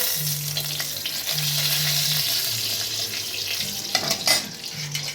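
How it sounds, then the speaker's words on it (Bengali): Nigella seeds and a dried chilli splutter and sizzle in hot oil in a wok for a vegetarian dish, a steady bright hiss with a few sharp pops and clinks near the end. "কড়াইতে দিয়ে দেবো একটু কালো জিরে ফোড়ন,"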